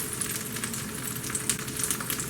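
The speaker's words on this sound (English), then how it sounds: "Here it's sizzling." Cheese sizzles and crackles in a hot pan, a steady close-up frying hiss with small popping bubbles throughout.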